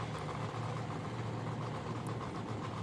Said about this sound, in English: we can hear the roar from Jens Lundgren's engine